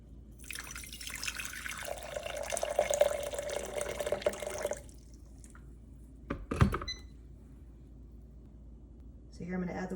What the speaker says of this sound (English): So here I'm going to add the water to our canned green bean casserole.